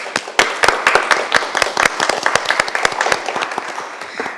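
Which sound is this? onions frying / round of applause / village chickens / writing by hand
round of applause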